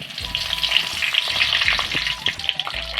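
Dried red chillies and curry leaves frying in hot oil in a pan for a vegetable thoran, a steady close sizzle with crackling pops and light stirring scrapes, no talk.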